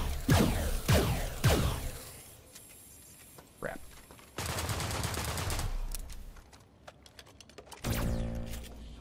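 Gunfire from System Shock (2023) hits a robot: several sharp shots ring out near the start, followed by bursts of rapid mechanical firing and clanking, while a player talks over parts of it.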